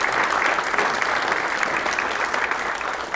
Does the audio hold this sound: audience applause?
yes